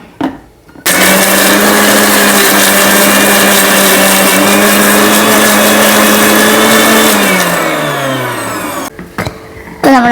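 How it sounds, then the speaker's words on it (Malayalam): Mixer grinder grinding coconut chutney with shallots, tamarind and dried chilli: a loud, steady whirring motor starting abruptly and running for several seconds, its pitch dropping as it winds down before stopping. "അരച്ചെടുത്തിട്ടുണ്ട് കേട്ടോ നമ്മൾ ചമ്മന്തി നാളികേരവും ഒരു മൂന്നാല് ചെറിയ ഉള്ളിയും പുളി വറ്റൽമുളക് ഇത്രയും ചേർത്തിട്ട്"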